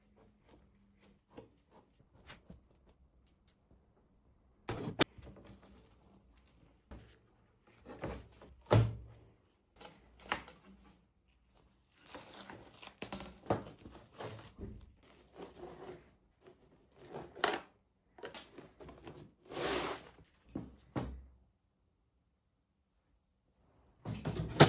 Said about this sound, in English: I'll take the old plexiglass off the door.